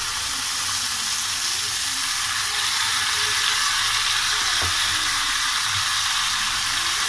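Masala paste for shahi gobhi sizzles and fries in a hot pan, a steady bright hiss filling the whole stretch with a couple of small pops, close and alone without talk.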